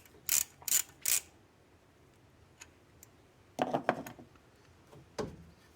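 Brush springs are released and the brushes pulled from an electric vehicle's DC motor: three quick metallic snaps up close, then a cluster of clattering scrapes and one last clack, with quiet pauses between.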